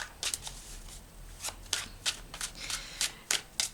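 Tarot cards being shuffled close by, a quiet run of crisp riffling bursts coming in an uneven rhythm, with no talking.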